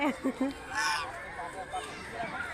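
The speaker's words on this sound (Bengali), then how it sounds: "এগুলো রাজহাঁস চলো এসো ওদিকে" Domestic geese honk a few times near the start, short nasal calls over outdoor background, with a voice speaking briefly nearby.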